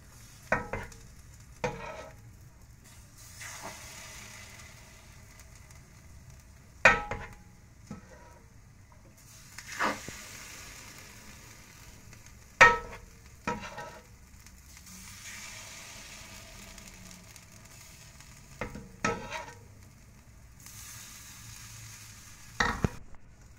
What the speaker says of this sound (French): je vais commencer à faire cuire les Ilosa.